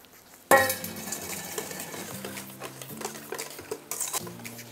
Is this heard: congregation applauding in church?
no